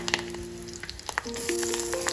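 Curry leaves drop into a pan of hot oil where mustard seeds have already popped, setting off a close, bright crackling sizzle that swells and stays steady, with a faint tonal hum running beneath it.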